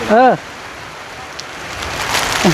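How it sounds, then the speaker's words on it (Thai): Rain falling steadily during a rainstorm, an even wash of patter that lasts throughout, with a brief voice at the very start and another near the end. "ฝนมาแล้ว"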